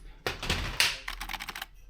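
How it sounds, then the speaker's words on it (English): Someone tries out a secondhand computer keyboard at a thrift store in Tilburg: a brief burst of close, clattering keystrokes in quick, uneven succession over faint room noise, with no speech. "What's this keyboard?"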